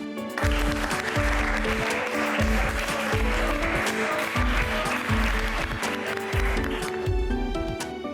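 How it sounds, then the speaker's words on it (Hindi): Classroom of students clapping loudly for their teacher Renuka, a dense burst of applause that keeps a steady, rhythmic beat from start to finish, with music playing underneath. "रेणुका टीचर के लिए जोरदार तालियां हो जाएं।"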